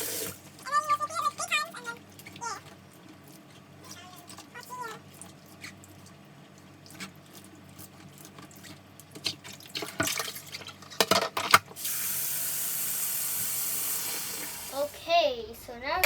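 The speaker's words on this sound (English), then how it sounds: "after the blueberries are washed, we do it again." Blueberries washed under a running kitchen tap, water splashing and trickling intermittently with a steady rush near the end, while a voice speaks over parts of it.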